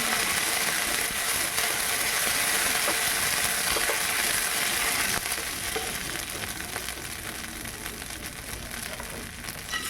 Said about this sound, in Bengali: জিরেটাকে ভালো করে আমি নেড়ে চেড়ে ভেজে নেব।